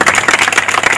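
Close, loud clapping from a small group at the inauguration of a new artificial turf pitch, fast irregular hand claps packed densely together for about a second.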